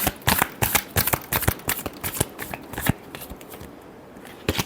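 Tarot cards being shuffled by hand, a run of crisp riffling snaps and flutters in quick irregular bursts, close and fairly loud, with no talking.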